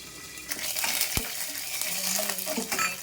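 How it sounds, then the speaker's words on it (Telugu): Tempering spices and curry leaves sizzling in hot oil for a gourd fry, a continuous close crackle with a sharp metallic clink of a utensil partway through and light stirring. "పోపు దినుసులన్నీ వేసినాము. కరివేపాకు ఆయిల్ ఎగరకుండా ఉంటుంది."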